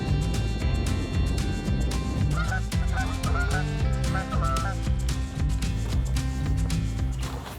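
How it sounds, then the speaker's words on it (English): Loud, busy honking and quacking from a flock of ducks at night at Laurel River Lake, continuous and close, overlapping calls with no pauses. "Ducks up are laughing at us."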